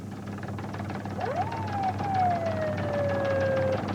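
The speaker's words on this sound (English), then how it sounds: "Hit the siren, Doug." A police siren during the 1992 Los Angeles riots winds up sharply and then slowly descends in a long wail, fairly close over a low, steady background hum.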